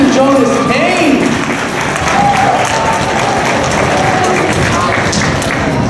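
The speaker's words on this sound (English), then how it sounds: "can we get a big round of applause for our positivity expert, Mr. Jonas Cain." A middle school audience applauds to welcome a speaker, loud sustained clapping from a crowd with scattered voices and cheers mixed in throughout.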